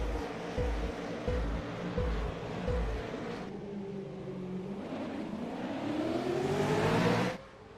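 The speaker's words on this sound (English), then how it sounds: "Solid getaway there from Andy Thomas as they rocket down towards turn number 1." V8 Supercars accelerating hard off the race start at Sebring International Raceway, a loud pack of engines revving and roaring together, with rising pitch as they pull away before cutting off abruptly.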